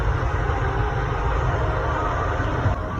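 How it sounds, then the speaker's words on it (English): A train passes somewhere in the distance, heard as a steady, broad rumble with a low, rolling roar that holds at an even level for a few seconds, with no voices over it. "It sounds like a train going by to me."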